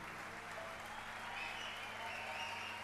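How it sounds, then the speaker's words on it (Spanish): An audience at the 2007 Buenos Aires Jazz Festival applauds a jazz musician with dense, steady clapping that holds evenly throughout, a full crowd sound at moderate distance. "fuerte el aplauso para él"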